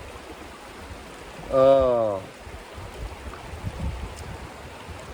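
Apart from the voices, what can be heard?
river water flowing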